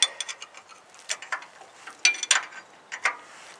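A 17mm wrench loosens the bolts on a backhoe mount on a Kubota MX5100 tractor, giving a series of close, quiet ratcheting clicks and small metallic ticks in irregular bursts.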